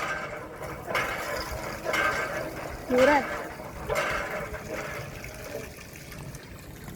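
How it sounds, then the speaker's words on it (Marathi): Water from a borewell hand pump gushes and splashes in rhythmic surges about once a second as the pump is worked, with a person talking over it. "हे बोरिंग आहे. इथूनच पाणी घेतात."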